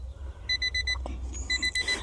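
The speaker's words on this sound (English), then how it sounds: "my alarm's going off" A 1992 Honda Beat's alarm chirps from its key fob in rapid bursts of high, evenly spaced electronic beeps over a low steady rumble, close and fairly loud.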